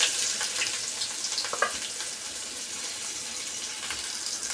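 Chopped onion, garlic and green chili frying together in a pan: a steady, fairly quiet sizzle with faint crackles and a brief clink of stirring, no talking.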